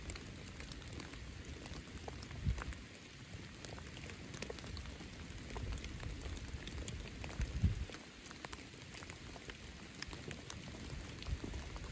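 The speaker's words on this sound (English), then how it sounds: "but it's cold enough and it's raining." Steady rain falls on a cold, foggy mountain, making a soft, even patter that continues throughout with a few slightly louder drips and no voices.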